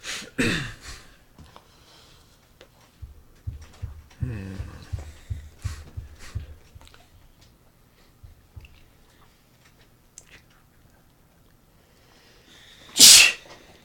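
A single loud, sharp sneeze bursts out near the end of a quiet stretch during a tabletop role-playing game session, preceded by soft scattered taps and clicks.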